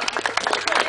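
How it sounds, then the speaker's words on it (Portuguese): A small group claps, giving a brief burst of dense, overlapping hand claps at close range during an outdoor training course. "Palmas pra ele."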